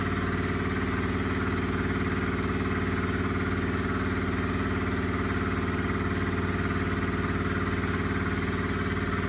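Filtratec 5.5 cubic foot hydraulic filter press runs with a steady, droning mechanical hum as its plates close, an even motor-like tone at moderate level with no talking.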